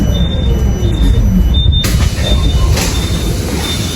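Interior of a modern electric city bus riding in Taiwan, with a steady low rumble of motion and rattling, a sharper mechanical shift partway through, and faint high whine, loud and continuous with no talk.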